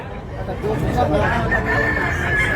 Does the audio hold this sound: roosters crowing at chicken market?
yes